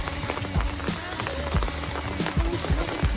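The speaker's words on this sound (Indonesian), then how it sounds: "Sayangnya kita kesini malah hujan, jadi becek jalannya." Rain falls steadily on a muddy forest path at Gedong Songo in Semarang, a close, dense hiss of patter. Footsteps squelch through the wet ground beneath it in a loose rhythm.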